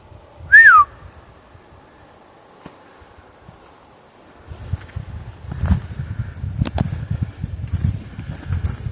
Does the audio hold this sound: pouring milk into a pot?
no